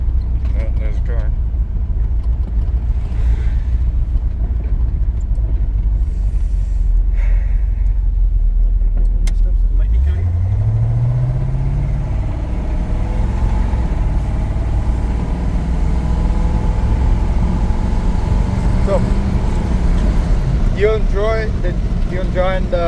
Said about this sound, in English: enjoying the rickety drive in the old truck? The V8 I'm happy with it.